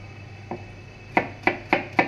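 Garlic minced with a knife on a board: one soft tap, then four sharp, evenly spaced chops close up, over a faint steady background hum.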